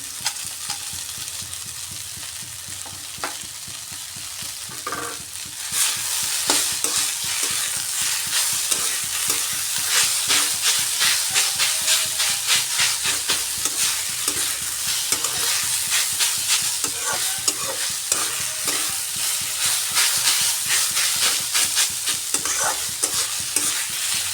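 Sweet potato leaf greens and fried lentil bori are stirred in a hot pan, the spoon scraping in quick repeated strokes over a continuous close sizzle that grows louder after the first few seconds.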